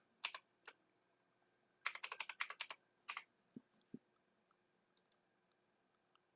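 Fingers type on a computer keyboard close by, sparse single clicks and then a quick burst of keystrokes, followed by a few isolated taps and soft thumps in an otherwise quiet room.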